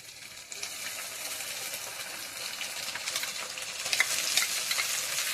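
Ginger and onion paste fry in hot oil for a mutton curry, a steady close sizzle that grows slightly louder toward the end, with faint stirring scrapes and no talking.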